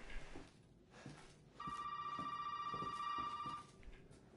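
A telephone rings in the Resident Evil 7 demo game, a steady electronic bell tone sustained for about two seconds, clear and fairly close, between quieter ambient game sounds and faint thuds.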